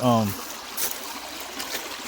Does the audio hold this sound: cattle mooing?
no